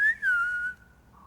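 A person whistles, imitating a Palestinian shepherd's call to his sheep: a short, sharp rising note, a brief break, then a longer gliding tone that fades out, clear and close.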